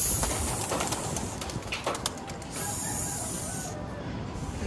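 Pet pigeons lift off together during an exercise flight, a loud rush of flapping wings close by with a few sharp wing claps, fading as the birds climb away.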